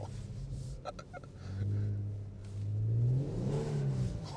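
Kia Stinger AWD engine revving hard in sport mode with traction and stability control off on snow, a steady low drone that swells and rises in pitch near the microphone, with faint clatter.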